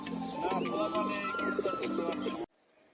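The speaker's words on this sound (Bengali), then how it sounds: "4 কবুতর আইসা বইয়া রয়েছে এত শর্ট টাইমের মধ্যে" Pigeons at a loft give soft, rounded cooing calls under a voice talking nearby, steady for a few seconds before cutting off to near silence.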